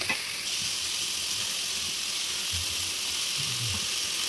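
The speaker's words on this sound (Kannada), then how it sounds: "ಈರುಳ್ಳಿಯನ್ನು ತೆಗೆದಿದ್ದೀನಿ ಅದನ್ನು ಸಣ್ಣಗೆ ಹೆಚ್ಚಿ ಫ್ರೈ ಮಾಡುತ್ತಿದ್ದೀನಿ" Finely chopped onions fry in a pan with a little salt added, giving a steady, close sizzle and hiss with faint stirring scrapes, continuous and free of talk.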